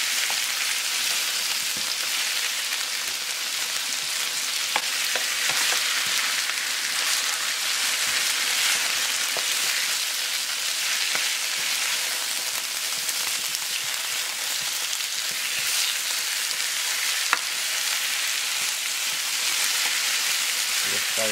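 Oxtail browns in a pot over medium heat, giving a steady, loud, hissing sizzle with a few faint scrapes and clicks of stirring.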